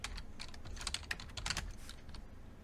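Rapid, uneven keystrokes on a computer keyboard while writing React code, clattering close up in a steady burst of irregular taps with no talking.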